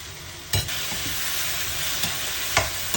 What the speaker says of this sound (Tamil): இதை வந்து நல்லா கிண்டி விட்டு ஒரு 5 நிமிஷம் நல்லா கிண்டி விட்டு